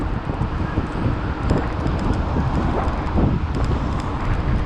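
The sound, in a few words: strong wind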